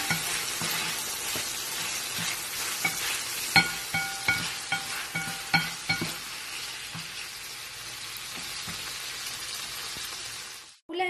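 Onions wilting as they fry in a pan, a constant soft sizzle broken by scattered crackles and popping spits, the hiss cutting off abruptly just before the end.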